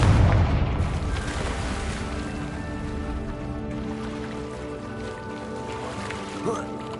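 A Confringo fire spell blasts in a Harry Potter video game, a dense rumbling burst that swells loud at the start and trails into a long crackling, roaring wash with a smaller pop near the end.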